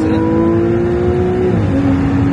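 A Ferrari 296 GTB with an 830 hp engine pulls hard with a loud, steady engine note that drops briefly as if shifting gear and then carries on climbing, close and without speech.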